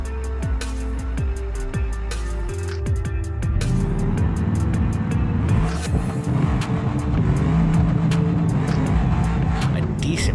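A procharged drag racing car on an eighth-mile outlaw run, engine roaring and rising in pitch as it accelerates past, loud and continuous with crowd and track noise around it.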